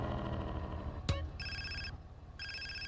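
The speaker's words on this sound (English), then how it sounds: "Phone call." A phone rings in Grand Theft Auto: San Andreas: two bursts of electronic ringing, moderately loud, following a sharp click, over a faint background of in-game radio.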